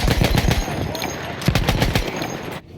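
Rapid rifle fire in the video game Battlefield 1, with loud bursts of repeated shots in quick succession and short gaps between the volleys.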